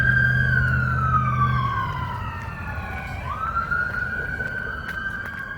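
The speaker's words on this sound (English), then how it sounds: "First I thought I was hearing sirens from like a street over or up the other side of the mountain." A police car siren wails close by and loud, its pitch sweeping down and then rising again, with a low engine rumble beneath at first, heard on a quiet dead-end street.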